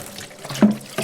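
Tap water runs over parboiled rice in a sieve while it is rinsed at a kitchen sink, a close, steady rushing trickle with a brief louder splash partway through.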